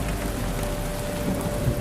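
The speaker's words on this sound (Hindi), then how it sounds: "अचानक आसमान से बिन मौसमी बारिश शुरू हुई" Sudden unseasonal rain pouring down steadily, a dense, even hiss of falling drops with faint rumbles underneath, no voices.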